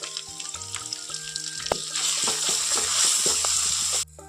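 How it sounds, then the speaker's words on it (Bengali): Ginger, cumin and turmeric spattering in hot oil in a kadai while Bengali chikni saag is being made, starting with scattered crackles and scrapes, then building into a loud, dense hiss of sizzling that cuts off abruptly near the end. "তো আদাটা তেলে দেওয়ার পর আদাটা যে ছিটকে আছে"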